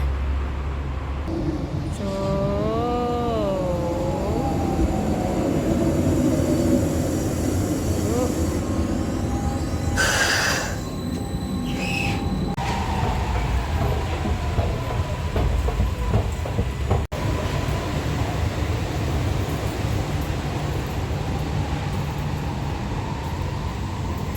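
A train runs along the rails near Hauptbahnhof Straße in Germany with a continuous loud rumble and rolling clatter, rising and falling tones and a brief high squeal, alone throughout.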